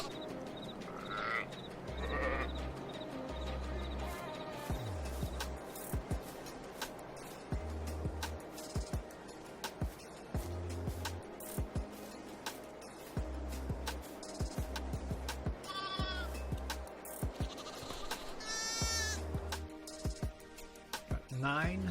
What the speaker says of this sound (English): We have more lambs than we had yesterday.